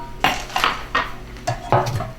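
Meatloaf mixture pressed into a 4x9-inch pan, a series of five or six sharp knocks and scrapes against the pan at an uneven pace, close by with no talk.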